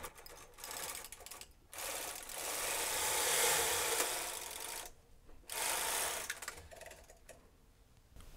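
A Brother 260 knitting machine carriage slides across the needle bed to knit a row, making a sustained loud whirring rasp in two long passes separated by a short pause, with lighter mechanical clicks at the end.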